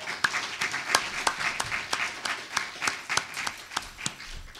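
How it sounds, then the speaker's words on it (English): Church congregation clapping for the worship team after a service song: sparse, distinct claps at a fairly steady rhythm from a modest crowd, with no talk over them. "Let's give them a big round of applause."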